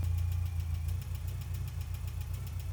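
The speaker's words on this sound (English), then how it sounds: "that ticking sound is the lifters" A Mitsubishi Starion engine idling steadily, with a quick, even lifter ticking running on top of the low rumble throughout.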